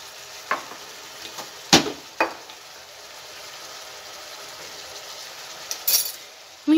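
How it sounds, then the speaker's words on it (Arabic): Grated onion frying in oil in a pan as beans and grated tomato go in, with a steady low sizzle broken by a few sharp stirring knocks and clinks of a utensil against the pot. "البصيله ديالي راها تقلات، غادي نضيف لها هاد اللوبيا مع المطيشه محكوكه"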